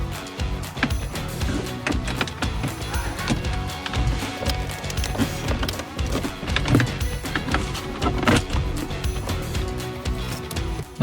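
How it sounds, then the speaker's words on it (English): Interior trim being levered off a BMW F20/F21 dashboard with a trim tool, a close run of creaking plastic, scraping and small clicks and snaps of releasing clips, with no talking. "this whole piece comes out all in one go, gently levering with a trim tool"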